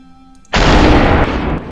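One loud, close gunshot in the video game SUPERHOT gives a sudden broadband blast that holds for about a second before it tapers off, and no voice is heard.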